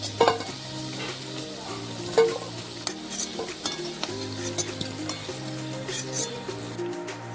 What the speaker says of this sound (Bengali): আলুগুলি খুব ভালোভাবে ভাজা হয়ে গেলে সেগুলি একটি বাটির মধ্যে তুলে নেব।